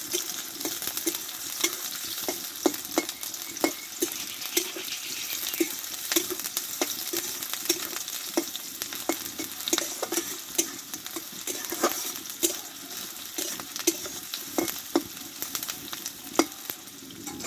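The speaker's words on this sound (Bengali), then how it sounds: "পেঁয়াজটা একটু ভেজে নেবো আমি" Chopped onion frying in hot oil for a bitter gourd dish, a steady crackling sizzle with frequent stirring clatter, close and continuous with no talking.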